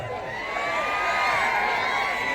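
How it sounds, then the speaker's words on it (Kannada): A live audience cheers and whoops in a steady, loud wash of crowd noise at a Kannada janapada folk music show as the singer is welcomed onto the stage. "ದಯವಿಟ್ಟು ಬನ್ನಿ ಇನ್ನೊಂದು ಜೋರಾದ ಚಪ್ಪಾಳೆ"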